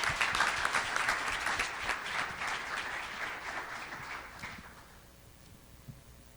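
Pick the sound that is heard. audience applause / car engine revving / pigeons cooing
audience applause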